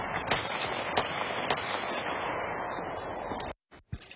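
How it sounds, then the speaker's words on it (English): Gunshots after midnight in the Karns community, captured by a neighborhood security camera: sharp distant cracks at irregular intervals over a noisy, hissing outdoor background, cutting off near the end. "you can hear the gunshots ringing out there in the Karns community just after midnight yesterday"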